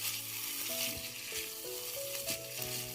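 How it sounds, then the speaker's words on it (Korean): Dried squid with gochujang sauce stir-frying over low heat, a steady close sizzle with a faint tonal hum running beneath it. "양념장 넣고 잘 볶아줍니다"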